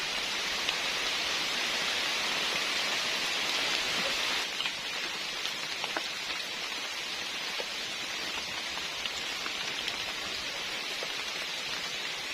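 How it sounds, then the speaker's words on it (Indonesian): Heavy rain pours down at a campsite amid strong wind, a loud, dense and unbroken roaring hiss close by, steady for the whole stretch with no voices. "Guys, hujan."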